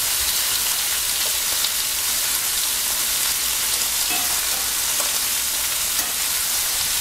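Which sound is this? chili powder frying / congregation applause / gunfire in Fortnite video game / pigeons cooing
chili powder frying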